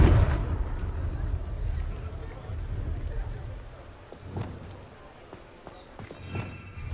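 A Confringo spell explosion in Hogwarts Legacy hits with a deep boom at the start and fades into a rumbling tail, followed by scattered smaller impacts and a voice speaking.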